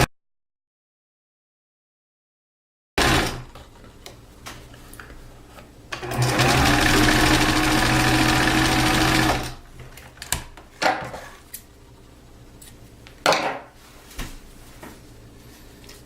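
Sewing machine stitching around a sweater sleeve at a wider stitch setting, a steady whirring run of about three and a half seconds, then short stop-start bursts and handling noises.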